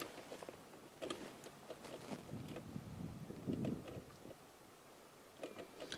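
Gusty wind buffets an outdoor microphone on a dry, dusty day in the African bush, coming in uneven rumbling bursts of moderate loudness.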